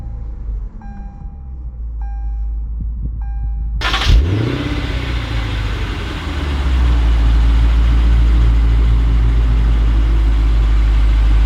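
A 2020 Lexus GS F's engine starts with a quick whir and catch, then settles into a steady, loud rumbling idle that deepens and holds close by without any talking.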